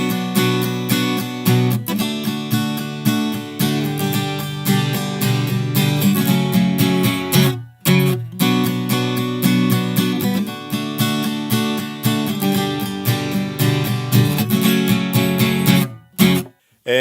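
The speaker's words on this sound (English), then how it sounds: "And there's our chorus strumming pattern." Strummed acoustic guitar plays the chorus of a song in a steady driving rhythm, loud and close, with two brief pauses between phrases.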